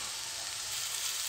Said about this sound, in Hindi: सभी सब्जियों को हमें हाई फ्लेम पर ही फ्राई करना है